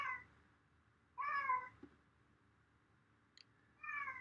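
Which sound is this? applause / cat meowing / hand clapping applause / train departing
cat meowing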